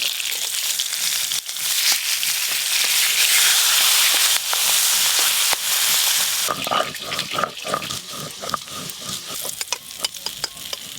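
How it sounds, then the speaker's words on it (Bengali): Hilsa fish heads fry in hot oil with a loud continuous sizzle, then crackle and pop amid stirring and scraping, with some faint voices in the background. "ইলিশ মাছের মাথা ভাজা হয়ে গেল।"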